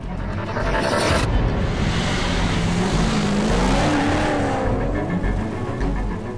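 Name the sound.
1407 PS Pontiac Trans Am sports car driving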